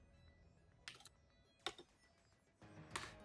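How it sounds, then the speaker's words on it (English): Short bursts of computer keyboard typing during a Pokémon battle, with quiet clicks in brief clusters separated by pauses, faint and close. "I think you'll still be able to hear me typing"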